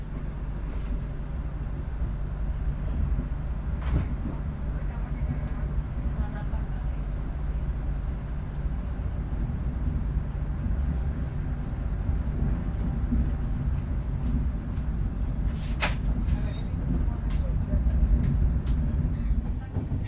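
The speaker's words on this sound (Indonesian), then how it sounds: "kereta api Dharma Wangsa yang saya naiki sudah diberangkatkan dari stasiun Pasar Senen" Dharmawangsa executive passenger train pulls out of Pasar Senen station, a steady low rumble of wheels and carriage with occasional metallic clicks and squeals as it rolls along.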